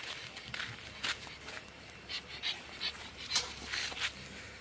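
A small female pug pants in quick, rhythmic bursts close by, with soft shuffling of paws in between.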